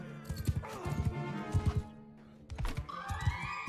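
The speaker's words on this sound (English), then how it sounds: "there's a ton of horses here" Many horses in the Mount and Blade Bannerlord battle gallop as a faint, steady patter of hoofbeats, spread out and low in the mix beneath other game noise.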